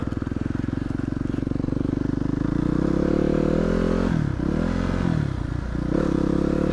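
A Yamaha YZ250F dirt bike engine idles with a rapid steady putter, then revs up into a loud, close drone that dips and climbs as the throttle is worked.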